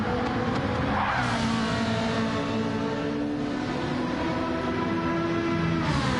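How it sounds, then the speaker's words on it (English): A Gr.3 race car in Gran Turismo 7 at Dragon Trail holds a steady, loud engine tone, rattling over curbs through a chicane, with a brief rasp near the start and no talk. "That car is a lot to handle going over those curbs through that chicken."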